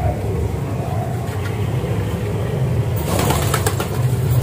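A pigeon cooing in low, soft, repeated tones that are close but fairly faint, with a steady background hum and a brief rustle partway through.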